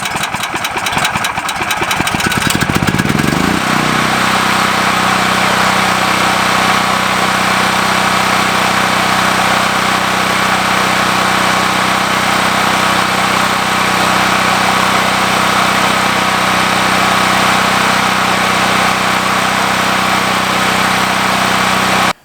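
A Predator 9000 generator engine starts with a rattling crank, then settles into a loud, steady, droning run that continues unbroken to the end, with no voices.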